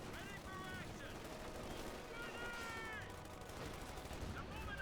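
MG-42 machine gun bursts in the video game Company of Heroes 2, rapid dense firing mixed into a busy battle soundscape with a voice commentating over it.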